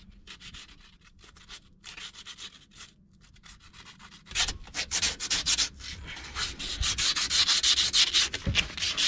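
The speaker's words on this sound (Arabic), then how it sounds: "دخلت بالصنفرة العادية طبقتها وبدأت أصنفر في الأماكن اللي ما المسدس أو الشنيور ما عرفش يوصلها" Hand sanding a car brake caliper with sandpaper, short repeated rasping strokes that start soft and grow louder and quicker, close up with no talking.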